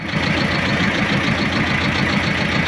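A T-25 tractor engine runs steadily as the tractor drives off, a loud, close, continuous mid-pitched diesel chug with even rhythmic pulsing throughout and no talk.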